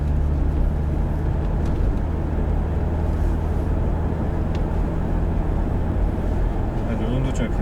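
A Hyundai Genesis Coupe 2.0 with a manual gearbox accelerates on the road, a steady low engine drone and road rumble heard from inside the cabin, holding even and loud throughout with no talk over it.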